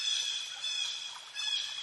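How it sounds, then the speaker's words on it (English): A bird squawking in woodland, a few harsh, high repeated calls in quick bursts, fairly clear and close with no talking over them. "there's a bird squawking away."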